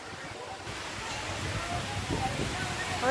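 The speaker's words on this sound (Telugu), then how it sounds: "గాలి అయితే చాలా గట్టిగా అంటే వస్తుంది, చాలా గట్టిగా." Strong wind roars steadily, buffeting the microphone in a broadband rush that swells slightly toward the end, around coconut trees dropping their nuts.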